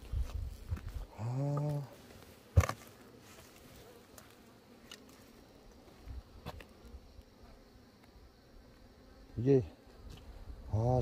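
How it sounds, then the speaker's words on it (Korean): Black hornets buzz around beehives in short, loud bursts as they fly close by and then fade, with quiet gaps and occasional knocks and a brief spoken word between passes. "너무 많습니다. 말벌"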